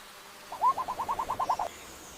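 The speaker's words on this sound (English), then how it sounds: "This is the Victoria crowned pigeon." A Victoria crowned pigeon in the humid forest of New Guinea gives a quick run of about a dozen short, even, hooting notes, moderately close and clear against a quiet background.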